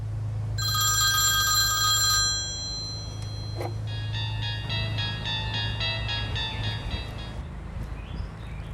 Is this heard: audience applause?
no